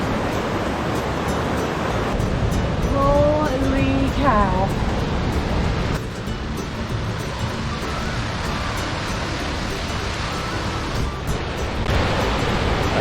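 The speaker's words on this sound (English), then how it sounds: "First look at the river." A high, fast-running river in Sapphire Valley, western North Carolina, rushing as a loud continuous broadband roar, with a person's brief exclamation over the water early on.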